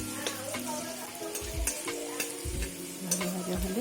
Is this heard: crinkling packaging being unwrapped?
no